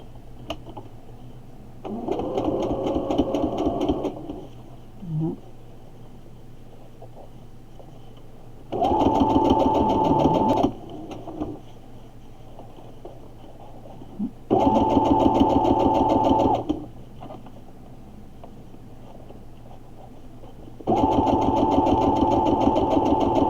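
A sewing machine stitches the side of a stuffed toy goat in four steady buzzing bursts, each lasting about two seconds. Quiet pauses separate the bursts, and the machine sounds close and moderately loud.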